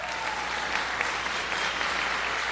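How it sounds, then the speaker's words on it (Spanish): Steady audience applause at a Teleton Guatemala telethon welcoming writer Alan Tenenbaum, a continuous wash of clapping with no voices over it. "yo quiero pedirle fuertes aplausos para Alan Tenenbaum"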